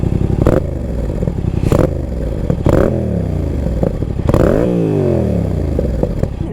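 Motorcycle fitted with an aftermarket exhaust, revved hard in repeated loud close blips with rising and falling engine pitch and sharp crackles between pulls, no talking.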